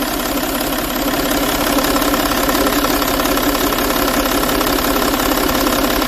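A 3.0 HDI V6 diesel engine runs steadily at about 3000 rpm, a loud continuous knocking drone with no change in pitch.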